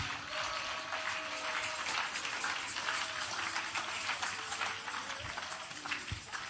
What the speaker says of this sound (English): Oh, you can clap your hands.